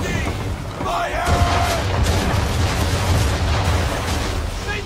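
Naval cannons in an Assassin's Creed III ship battle boom in a dense, loud, rumbling barrage, and shouting voices carry over the continuous thunder of the guns.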